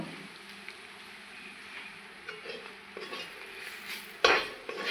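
Gram flour is stirred into an onion paratha dough mixture in a metal bowl, producing soft continuous scraping and rubbing with occasional clinks, ending in a louder knock against the bowl.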